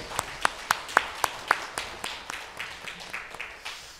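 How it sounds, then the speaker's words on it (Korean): A church congregation clapping together during a Sunday worship service, a steady rhythm of sharp, evenly spaced claps that loosens into scattered softer clapping toward the end. "하나님께 영광의 박수를 올려드립시다."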